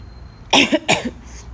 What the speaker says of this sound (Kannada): ನಾನು ಮಾತಾಡ್ತಾ ಇದ್ದರೆ ಕೆಮ್ಮು ಬರುತ್ತೆ, ಸಾರಿ.